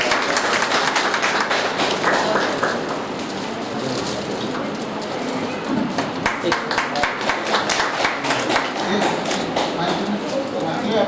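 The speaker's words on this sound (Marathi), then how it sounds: "सगळ्यांनी टाळ्या वाजवून स्वागत करावे" Crowd applause at a poetry and ghazal gathering in Maharashtra marking Independence Day and the anniversary of Vamandada Kardak, welcoming a guest to the stage; dense, steady clapping fills the room for the full stretch, staying loud throughout.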